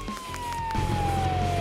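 An ambulance siren wails with a steady, slowly falling tone, fairly loud and continuous, over background rumble and faint noise.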